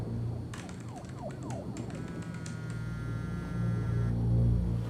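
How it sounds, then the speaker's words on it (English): An office alarm going off in the video game Quantum Break, a steady electronic siren-like wail with rising tonal sweeps, loud and continuous throughout under dense game background noise. "office alarm went off"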